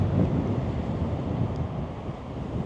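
Steady, blustery wind buffets the microphone with a continuous low roar, with surf-like rushing underneath from whitecapped water in Hood River, Oregon, and no voices.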